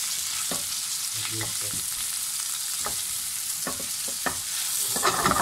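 Beef steak frying in butter in a pan, a loud continuous sizzle with repeated scraping and knocking from a utensil against the pan.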